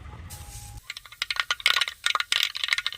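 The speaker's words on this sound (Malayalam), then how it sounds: "കടുതാളിക്കൽ" Rapid crackling pops and spits from mustard seeds hitting hot coconut oil, irregular and close, building in density after a brief quiet start.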